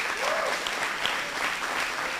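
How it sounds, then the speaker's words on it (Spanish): A church congregation claps together in praise during a sermon, a brief, full burst of close, even applause filling the room. "Un aplauso a Dios."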